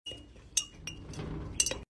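Metal spoon stirring soil with baking soda in a container, producing a steady scraping rustle with two sharp clinks against the side, close and fairly quiet.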